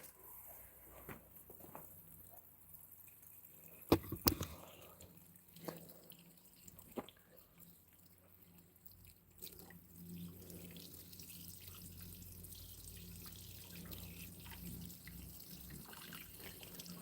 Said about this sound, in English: I'm already starting to water the medium here.